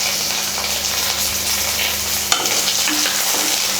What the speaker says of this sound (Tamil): இப்போ இந்த பூண்டும் மிளகாவும் நல்லா வறுபடட்டும்